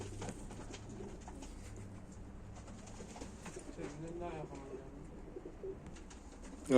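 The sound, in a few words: tumbler pigeons cooing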